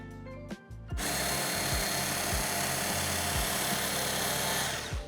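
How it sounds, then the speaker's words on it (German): A Böker Solingen bench belt grinder runs a 6000-grit polishing belt over a knife blade, giving a steady loud whirring hum with a low rhythmic thump from the belt after a brief start. "Jetzt gehen wir noch über das 6000er Band, polieren, wieder von der Seite des Schliffes."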